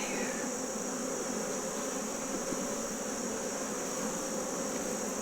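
A steady, dense drone of honey bees buzzing around an opened hive during a brood and honey store inspection, close and continuous with no talk over it.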